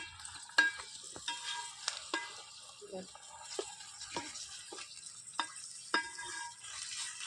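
A spoon stirs gongura chicken in a pan with a run of sharp scraping strokes at an uneven rhythm over a quiet sizzle, close and fairly soft, with no talk.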